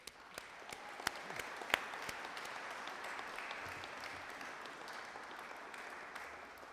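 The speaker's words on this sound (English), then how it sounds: "So the last round of applause today is for yourselves for coming" Conference delegates applaud at the close of a UK session, a soft, steady wash of many hands clapping with a few sharper claps near the start, heard from a distance and fairly faint.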